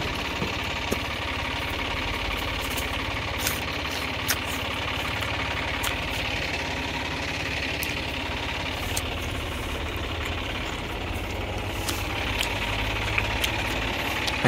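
Engine of a modern sugarcane harvester running steadily in a cane field, a continuous mid-pitched diesel drone with vibration and faint knocking, close and unbroken with no talk over it.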